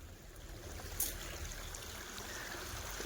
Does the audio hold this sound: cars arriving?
no